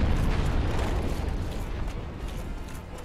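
Demon Firesage, a flaming boss in Dark Souls Remastered, unleashes his big nuke attack, a loud, deep rumbling eruption that roars and slowly fades across a few seconds.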